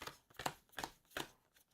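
Cards from a board game are shuffled in quick riffling bursts, faint and close, with no talk.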